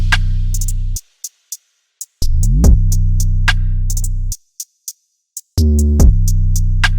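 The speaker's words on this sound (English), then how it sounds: "All the drums together by themselves sound like this." Hip-hop drum pattern from a beat programmed in FL Studio, booming 808 bass notes under punchy hi-hats and snares, playing in bursts with brief gaps, loud and up front with no voices.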